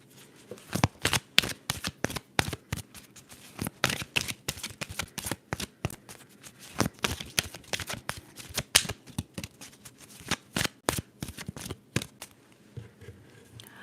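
Playing cards being shuffled up close in a quiet room, a long series of crisp riffling flutters and sharp snaps in irregular bursts, recorded softly and intimately.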